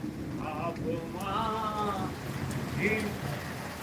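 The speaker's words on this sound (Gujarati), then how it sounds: "વધી ગયો વરસાદ હો" Heavy monsoon rain pours down in Surva, a steady broadband hiss heard close and continuous, with people talking over it.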